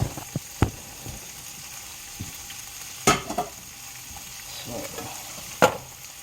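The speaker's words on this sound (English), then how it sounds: "you just kind of feel with a spoon is what I'm doing, just to kind of see where it's at as far as being cooked" Spoon stirring cooked broccoli in a pot, with soft scraping and a few sharp clinks against the metal over a faint background sizzle.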